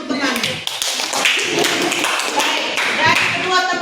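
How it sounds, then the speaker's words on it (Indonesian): Classmates in a school classroom clap for a fellow student, a dense, steady round of handclaps lasting several seconds with some talk mixed in. "Oke, tepuk tangan untuk temanmu."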